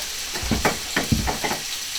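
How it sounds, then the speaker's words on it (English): Ground beef for chili sizzling in a hot pan on medium-high heat, a steady frying hiss broken by several soft scrapes and clatters as the meat is stirred. "Add your meat. Hear that sizzle."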